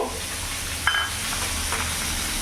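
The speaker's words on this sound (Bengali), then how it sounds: "মাছটা আমার ভাজা হয়ে গেছে, আমি ঘুরিয়ে নেবো।" Fish fries in hot oil in a pan with a soft, continuous sizzle and a faint clink partway through, nearby and without talk.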